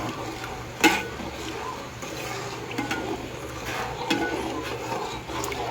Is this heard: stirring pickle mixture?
yes